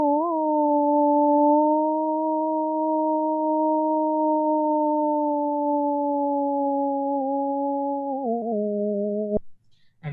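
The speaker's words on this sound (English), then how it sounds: "So if we resynthesize with sinusoidals," A hummable melody resynthesized with pure sinusoids: a steady held tone with stacked harmonics that gently wavers in pitch, then drops lower and cuts off near the end, loud and alone.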